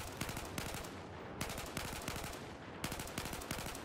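Repeated three-round bursts from an M4/M16A4 rifle in Battlefield 4, sharp and loud, with short pauses between bursts and a steady rhythm of clustered shots.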